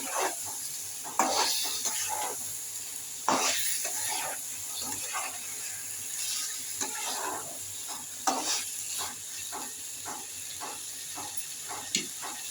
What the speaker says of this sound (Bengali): আলুগুলো ভালো করে মাখিয়ে নেবো মশলার সাথে।